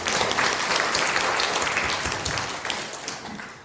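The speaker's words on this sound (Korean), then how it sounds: "어버이 주일을 맞이해서 나를 낳아주신 부모님께 감사의 박수." Warm applause from a church congregation on Parents' Day Sunday, thanking parents: a dense, lively burst of many hands clapping at once that gradually thins and fades toward the end.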